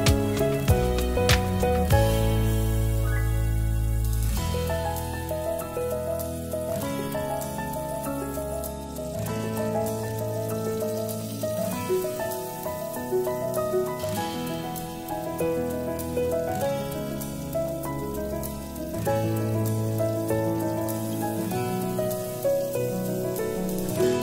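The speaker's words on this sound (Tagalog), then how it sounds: "Okay guys, let's start frying our tilapia." Tilapia fries in a pan with a continuous crackling sizzle under background music, steady and fairly close throughout.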